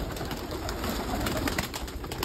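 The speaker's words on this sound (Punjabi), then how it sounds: "ਚਲੋ ਬਾਈ ਨਿਕਲੇ ਕਬੂਤਰ ਸਾਰੇ ਬਾਹਰ" Pigeons on a farm give soft cooing calls amid a dense flutter of wings as they fly out, a brief, busy burst heard close with no talk.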